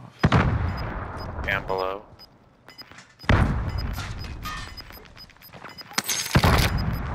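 Heavy gunfire in a battle royale video game, loud clustered bursts and booming shots in two main volleys with a lull between, close by, with a person speaking briefly.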